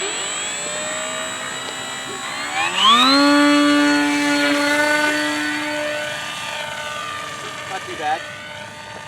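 A 68-inch Storm Chaser RC airplane engine at quarter throttle in flight, a steady droning whine that sweeps up in pitch partway through as it passes nearby, with people talking over it.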